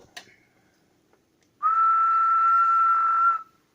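A single steady, sustained whistle held at one pitch for about two seconds, close and loud, preceded by a small click.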